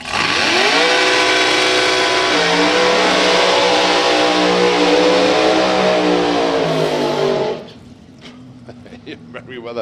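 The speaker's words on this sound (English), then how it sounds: "Merriweather, storming burnout there for him." Loud Altered drag racing car storming through a burnout, engine howling steadily at full revs for about seven seconds before cutting off abruptly, leaving faint ambient noise.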